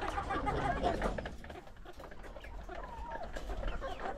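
Several roosters on a small farm cluck and call nearby in a busy, overlapping chorus that runs throughout, with faint background patter.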